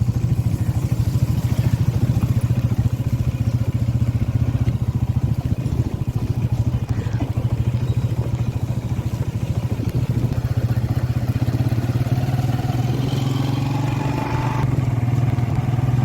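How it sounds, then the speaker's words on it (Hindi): A self-start motorcycle engine idles and rumbles continuously nearby on a rainy rural farm track, with a steady low drone and some rising revs toward the end; no talking. "बम्बारी ने मोटरसाइकिल स्टार्ट कर लिया, हम भी जल्दी जल्दी निकले"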